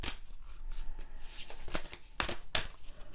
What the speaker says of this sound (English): I feel like I need to shuffle a few more times.